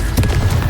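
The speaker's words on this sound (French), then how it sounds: "Confringo!" Confringo explosive spell cast in Hogwarts Legacy, a short burst of booming, crackling blasts lasting under a second, loud and close with no talk over it.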